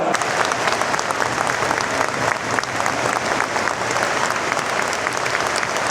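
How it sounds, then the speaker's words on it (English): A football stadium crowd at Charlton Athletic versus Middlesbrough applauds in a minute-long tribute for Norm, a loud, sustained wash of clapping filling the ground. "Minute round of applause for Norm again."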